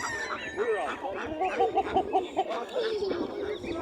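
Geese and other poultry at a Turkish market honk and cackle in a quick run of calls, fairly close, with the murmur of people nearby.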